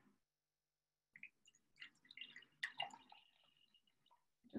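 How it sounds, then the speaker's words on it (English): Water is poured into a jar of tomato seeds, giving soft, quiet trickling and dripping splashes after a brief silence, sporadic and close by. "you add a little water"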